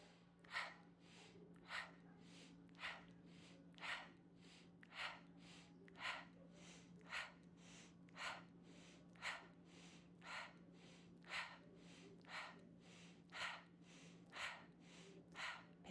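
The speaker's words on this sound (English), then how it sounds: "Breathing in through your nose," During a fire-element yoga practice, a person breathes rhythmically in through the nose and out through the mouth. Short, even breath bursts repeat about once a second, around fifteen in a row, close and clear over a low steady hum.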